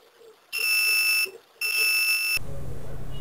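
An analog multimeter testing a good diode gives two loud, steady electronic beeps, each about three-quarters of a second long with a short gap between them, and a lower buzzing hum follows.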